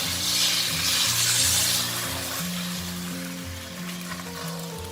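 Beaten egg poured into hot oil in a pan for a thin fried egg, giving a loud, steady sizzle that slowly eases, with soft background music underneath.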